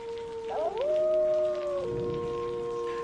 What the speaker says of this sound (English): We could hear the distant howling of wolves.